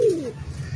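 A single soft, low coo from a fancy pigeon, such as a fantail, sounds close by, brief and falling in pitch.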